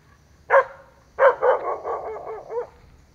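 A dog barks nearby, one sharp bark followed by a longer run of rough, yelping barks that tail off, loud against a quiet outdoor background.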